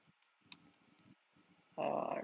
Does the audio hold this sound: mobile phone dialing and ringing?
no